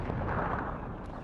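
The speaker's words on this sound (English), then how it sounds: "And more artillery, apparently, because they have a lot of artillery." Distant, muffled artillery fire in the WARNO wargame, heard as a low rumbling wash of booms and faint cracks at moderate loudness, with no voices.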